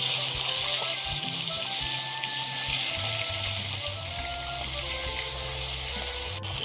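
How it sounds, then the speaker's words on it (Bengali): Silver carp fish fries in a pan, with a dense, loud sizzle of hot oil that continues without a break and no voices. "মাছটা ভাজা হয়ে গিয়েছে"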